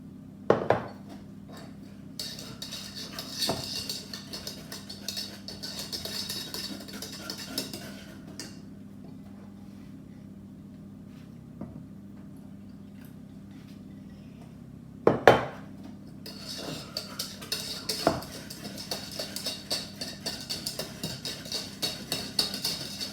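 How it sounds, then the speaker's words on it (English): Milk is stirred into pastel de nata custard mixture in a bowl, giving intermittent utensil clinks and scrapes in bursts with quieter gaps, close and moderately faint. "Add the milk a little bit at a time and stir the mixture until"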